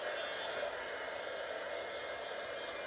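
A heat tool blows steadily at close range to heat embossing powder on a 5x7 craft card, a continuous loud whooshing hiss that runs unbroken from start to finish.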